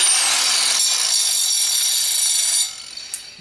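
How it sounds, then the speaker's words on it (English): Power tool grinding down the jagged edge of a freshly cut airstone, a steady loud abrasive whine for about two and a half seconds before cutting off abruptly, followed by a faint tap. "you can just turn this on and grind that back down"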